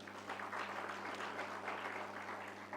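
Steady applause fills an awards ceremony hall, a dense even wash of clapping over a low constant hum, with no voices.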